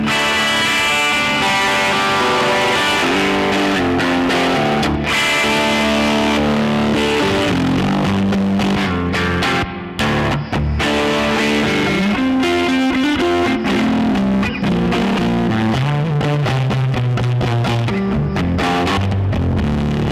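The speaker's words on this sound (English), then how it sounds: "In that demo you will have heard how the pedal sounds" Heavily distorted electric guitar plays through a DIY effects pedal into a Victory DP40 amplifier, dense, loud chords and bends ringing continuously, no talk.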